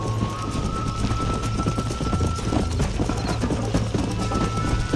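A galloping horse thunders along in a Red Dead Redemption race, its hoofbeats rolling in a quick, even rhythm, near and loud for the whole stretch, with no speech.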